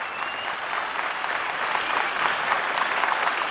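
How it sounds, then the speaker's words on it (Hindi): A mushaira audience applauds a poet, a dense, steady wash of clapping from many hands that holds evenly throughout. "देखिए तालियां कैसे बजती, देखिए"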